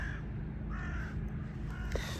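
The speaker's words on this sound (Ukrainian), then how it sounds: "Величезна кількість ворон." Several crows caw in short harsh bursts over a steady low rumble of outdoor background noise on Obolonskyi Island, the calls moderately near.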